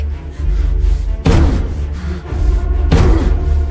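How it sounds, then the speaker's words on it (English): Fist pounding on a steel door in a frantic rhythm: loud, heavy slams and thuds hitting in quick bursts, with two especially hard impacts standing out above the steady banging. "Jack is banging frantically on the steel door, shouting for me to open it"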